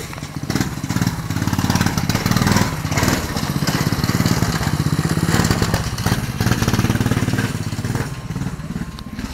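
A mini bike engine buzzes loudly and continuously as it rides laps nearby, with a rough, rattling, lawn-mower-like drone that barely varies over several seconds.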